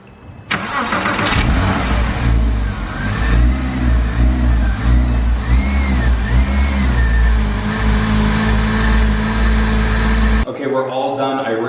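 A Porsche Cayman engine starts and runs steadily with a freshly replaced pulley and belt, a loud, close, continuous hum with slight rising and falling revs, ending abruptly.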